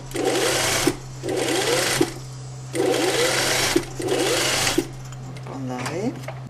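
Sewing machine stitching the side seam of a trouser leg for drawstring-waist trousers, running in several short bursts with pauses between, close and loud, with speech near the end.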